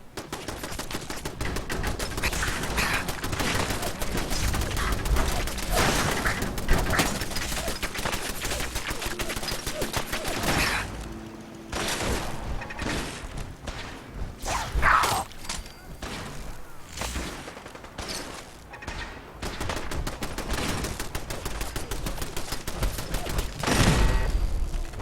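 Gunfire from the video game Wasteland crackles as dense, rapid volleys for about ten seconds, then thins into scattered shots and bursts over a steady loud background, with no talking.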